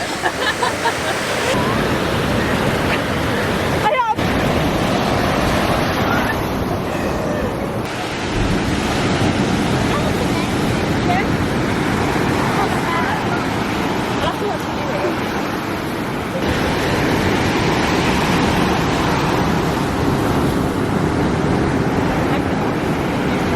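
Ocean surf rolls onto a beach in Mirissa, Sri Lanka, a loud continuous wash of breaking waves with heavy wind buffeting the microphone and people talking intermittently over it.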